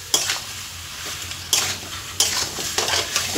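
Chicken curry with potatoes and spices cooking in a pan for a red jhol: a constant close sizzle broken by a few sharp scraping stirs against the pan, with no one speaking.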